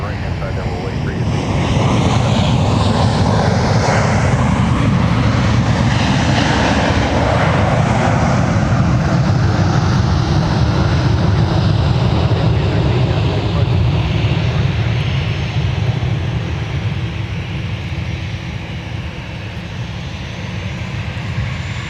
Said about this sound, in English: We will catch Delta 162 Heavy depart, and that will be the finale for our show tonight.